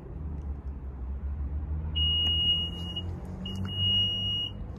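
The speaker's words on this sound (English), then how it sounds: "Those two beeps mean that this is now as far as that hatch will open." Power liftgate warning on a 2022 Nissan Rogue SL: two clear, high-pitched electronic beeps about a second and a half apart, over a low background rumble.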